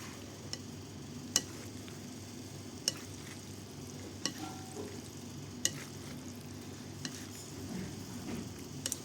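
Cooked noodles being mixed with a utensil, quiet steady scraping and stirring with several sharp clicks and taps against the container, close by and without any talk.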